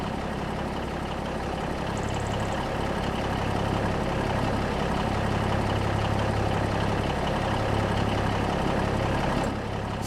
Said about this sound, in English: That's probably the international pickup truck